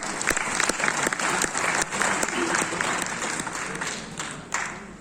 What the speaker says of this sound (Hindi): एक बार इस परिवार के लिए जोरदार तालियां बजाएं।